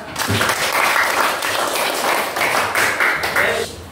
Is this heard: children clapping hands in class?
yes